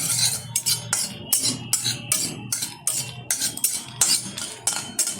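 Dry red chillies being stirred in a hot wok with a metal spatula, a steady run of sharp scraping clinks against the pan over a low sizzle, close and fairly loud with no talking.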